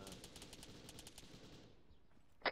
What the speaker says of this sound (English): I'm hearing heavy fire west